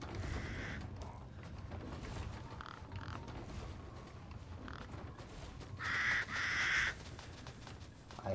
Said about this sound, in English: I hate crows in this game